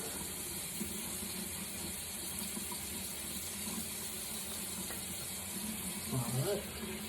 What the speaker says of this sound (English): We're going to leave the water on just so it stays warm